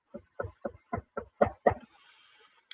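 Seven sharp knocks on a hard surface in an even rhythm, close and clear, followed by a faint trailing rustle and near silence.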